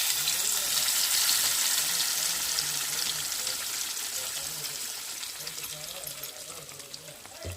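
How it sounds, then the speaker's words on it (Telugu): Blended tomato mixture frying in hot oil in a home kitchen, a steady broadband sizzle with watery crackle running throughout and fading slightly, with faint talk beneath. "ఆయిల్ అయితే హీట్ ఎక్కింది కదండి మిక్సీ పట్టుకున్న మిశ్రమాన్ని వేసుకోండి"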